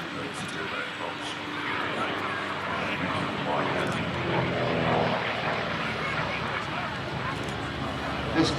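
An Allison 250 turboprop aircraft engine drones at the Midlands Air Festival airshow, a steady propeller roar moving past overhead while an announcer talks over it.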